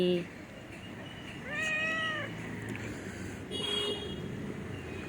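A pet cat called Chingri meows twice, with a long drawn-out call near the middle and a fainter one later, while a voice coaxes it over steady room background.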